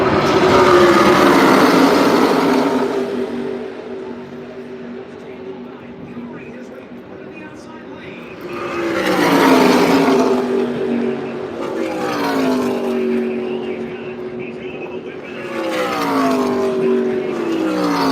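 ARCA race cars in the General Tire 200 roar past side by side toward the line, loud engine surges swelling and fading in passes, with commentators talking over the noise.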